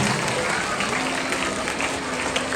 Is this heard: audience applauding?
yes